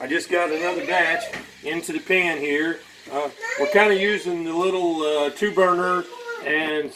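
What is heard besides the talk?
None of the usual background noises is heard.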